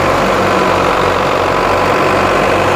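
A Belarus 510 tractor engine runs with a loud, steady low diesel rumble, driving a thresher at close range, with no voices.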